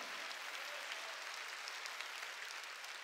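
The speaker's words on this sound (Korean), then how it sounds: "박수치라 이거야." A church congregation claps together at a sermon, a steady broadband patter of many hands held at an even level for about three seconds, moderately distant and without speech over it.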